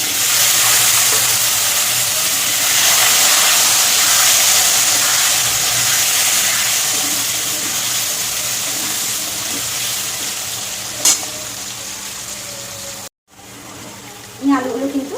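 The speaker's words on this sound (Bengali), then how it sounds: "আলুগুলো ভেজে নেব।" Cut potatoes frying in hot oil, a loud, steady hiss and sizzle close by that holds for most of the time, broken near the end by a sharp tap and a brief dropout before some clattering.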